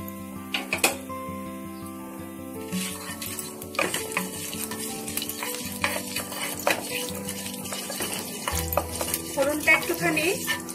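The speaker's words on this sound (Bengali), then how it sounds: "ফোড়নটা একটুখানি ভেজে নিতে হবে।" Black mustard seeds and asafoetida frying in hot oil for achari paneer make a close, continuous sizzle, crackling with sharp pops and the clatter of a stirring utensil against the pan.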